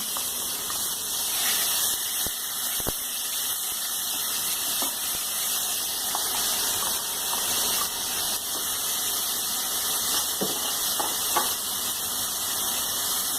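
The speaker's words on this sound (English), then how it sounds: "Now we will saute these onions till they are golden brown in color" Onions frying with cinnamon sticks, cloves, crushed green cardamoms and bay leaves in a pan over medium heat, giving a steady, even sizzle and hiss throughout with a few faint clicks.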